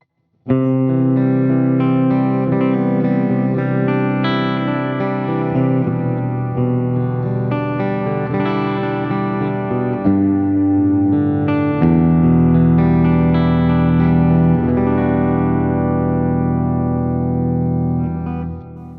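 A clean electric guitar, a PRS SE Mark Holcomb SVN seven-string on its bridge pickup, plays sustained chords and ringing single notes with a bright, thin tone and a wash of reverb, steady and alone for about eighteen seconds.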